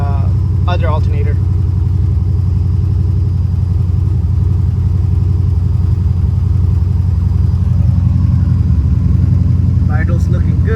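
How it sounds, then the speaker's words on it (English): A Datsun 240Z engine idles while warming up, a loud, steady low rumble held close and constant throughout, with brief speech at the start and end. "Just gonna let it warm up till the fan comes on and see how much voltage it drops."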